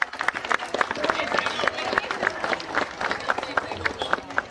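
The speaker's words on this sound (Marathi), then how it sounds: "सर्वांनी टाळ्या वाजवायचे." Applause from a crowd at a cricket premier league prize ceremony, quick uneven claps ringing out while a voice keeps talking over the clapping.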